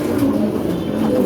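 Pigeons in a small loft of six or seven birds give low, steady cooing, close and fairly loud, with no voices.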